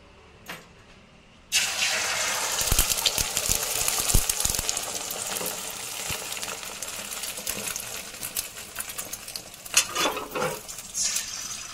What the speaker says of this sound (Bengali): তেল গরম হয়ে গেছে, এখন আমি ফেটানো ডিমটা ছাড়ব।